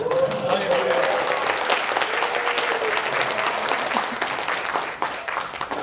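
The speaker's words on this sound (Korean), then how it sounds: "이럴 때는 박수를 좀 크게 쳐주세요." Loud, sustained applause from a large crowd of delegates and party members at a Democratic Party leadership candidates' joint rally in Jeju, steady dense clapping with faint voices and cheers mixed in throughout.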